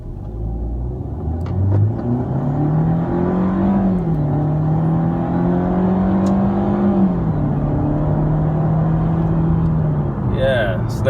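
A Mercedes C180 W204 fitted with a RaceChip XLR tuning module accelerates hard from a complete standstill, its engine note rising steadily and holding strong and close throughout, with a voice briefly heard over it.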